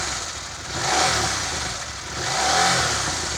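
A KTM 790 Adventure motorcycle engine revs loudly up close, rising and falling in two swells with a rough, raspy mid-range tone and no talking.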